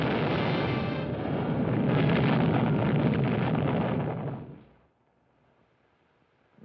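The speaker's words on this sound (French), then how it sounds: "Ensuite, une explosion formidable." A huge explosion sound effect from a 1956 science-fiction film about flying saucers: a loud, sustained roaring blast for about four seconds that fades abruptly into near silence.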